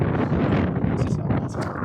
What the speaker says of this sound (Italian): Oh, cos'è tutto sto vento?